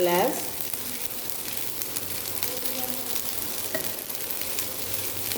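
Pasta frying with tomato ketchup in a pan gives a steady, close sizzle with faint stirring scrapes throughout, and a brief clatter at the very start.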